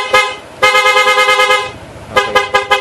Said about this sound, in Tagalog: Busina, PA horn yung kinabit natin. Dual horn mode na merong rapid.